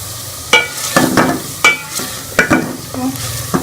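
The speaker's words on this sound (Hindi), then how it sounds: "इसके अंदर हम आलूओं को डाल के अच्छी तरह भूनेंगे।" Potatoes are fried in masala in a pan, with loud close spatula scrapes at an irregular rhythm over a continuous sizzle and no talking.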